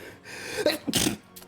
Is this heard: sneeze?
yes